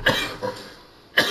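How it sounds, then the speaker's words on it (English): A few harsh, short coughs from a sick game character, with two bursts close together and a third after a pause. "I can't deal with this cough, I'm sick."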